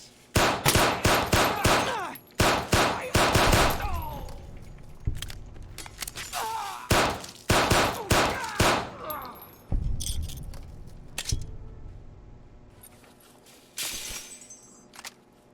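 Rapid bursts of pipe rifle fire in Fallout: Tale of Two Wastelands, loud and close, with clusters of sharp shots repeating through most of the stretch and brief quieter gaps between volleys.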